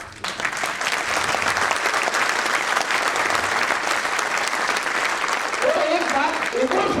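An audience at a sales training session claps in a sustained, dense burst of applause lasting several seconds, loud and close, with some voices underneath toward the end.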